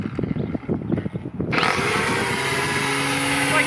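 A lawn mower being used for the first time starts up after a stretch of rustling and handling noise, then runs steadily and loudly up close with a constant engine whine and hum.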